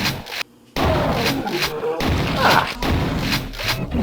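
Super Shotgun blasts in Quake 2, several heavy booming shots in quick succession amid dense game noise and a brief silent gap.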